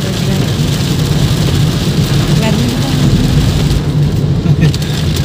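Heavy rain pours in a dense, steady hiss, with a low rumble of a vehicle moving along underneath throughout.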